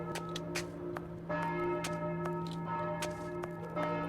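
Bells ring out in a Sherlock Holmes video game, a steady series of clear strikes over a sustained humming tone, moderately loud with no talking.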